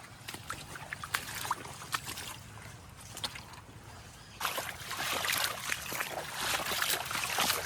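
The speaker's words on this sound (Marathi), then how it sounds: "हे बघा पाणी कसं जातं" Water trickling and gurgling through a farm irrigation channel, a close, uneven splashing stream that grows fuller and louder in the second half, no talk.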